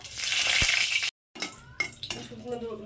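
Two dried red chillies hit hot mustard oil in a pan, giving a bright crackling sizzle with clinks of a utensil; a short silent gap, then quieter sizzling and stirring clatter.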